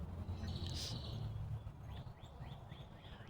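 Backyard birds in North Texas on a mild February day, a few faint high chirps and short repeated tweets at a distance over a steady low outdoor hum.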